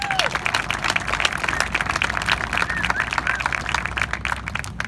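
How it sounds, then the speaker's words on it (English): A community crowd claps for a service crew at an outdoor event, uneven moderate applause with crisp individual claps and some murmuring voices mixed in. "let's give Austin and his crew another round of applause"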